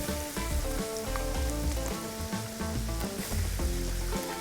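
Coated soya chunks sizzle and crackle steadily in hot oil, a dense, close frying hiss with no voices.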